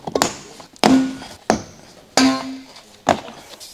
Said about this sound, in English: Remove the driver's side door sill trim.